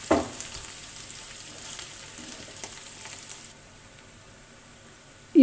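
Ginger, garlic and green chilies fry in a pan for a Kerala fish biryani, a close, steady sizzle and hiss that drops to a quieter simmer partway through, ending in a brief knock, with no talking.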